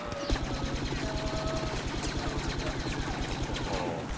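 Rapid blaster gunfire in the video game Star Wars Battlefront, a dense steady stream of automatic shots, loud and continuous, with no talk over it.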